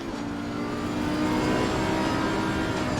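A race car engine in a sim racing game drones and revs steadily behind a slower car, a loud continuous mechanical whine with tonal harmonics and no speech over it.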